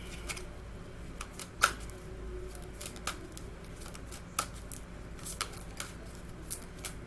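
A deck of cards is shuffled gently by hand in a quiet room, giving soft riffling flutters and scattered sharp snaps and taps at irregular intervals.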